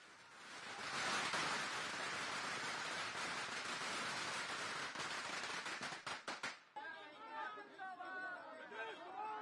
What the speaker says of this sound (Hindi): समर्थकों ने पटाखे फोड़कर और जश्न मनाकर जीत का आनंद लिया।